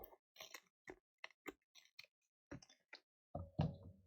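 Straight scissors cutting paper for a collage, a sparse series of small, sharp snipping clicks with short pauses between them, ending in a slightly heavier thump.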